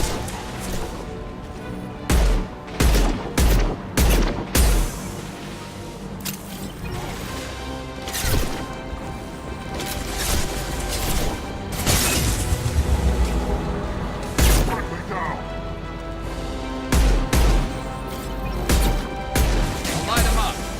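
Mass Effect 2 combat with repeated sharp gunshots and heavy thuds in rapid clusters, dense and loud throughout, with a few bigger crashing impacts that fit a grenade blast.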